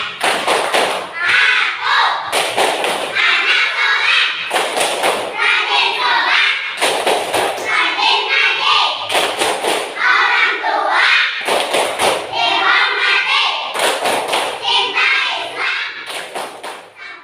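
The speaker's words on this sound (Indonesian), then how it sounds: "pimpin aja 1, 2, 3 ya, 1, 2, 3 Tepuk Anak Soleh" A group of schoolchildren claps the Tepuk Anak Soleh chant in a Friday classroom, sharp loud thumps falling in regular rhythmic bursts, voices chanting along between the claps.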